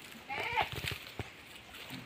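A single goat bleats once nearby, short and wavering, then a faint rustle and quiet background follow.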